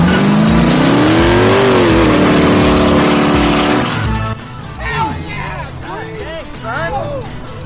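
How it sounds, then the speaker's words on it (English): Twin-turbo Dodge Charger police car doing a burnout, its engine revving hard and loud with a rising, wavering pitch, then settling into a rough idle while people talk over it. "we're gonna definitely burn them pursuit tires off the back of this thing!"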